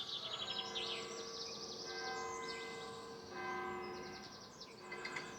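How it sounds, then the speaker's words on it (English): Church bells ring steadily in the distance, their tones overlapping, while birds chirp and tweet throughout, heard from a narrowboat. "There's the church bells going off."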